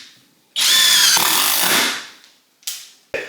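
A DeWalt driver set to self-tapping mode spins a screw in one loud, sustained whir lasting over a second, followed by two short bursts as it finishes.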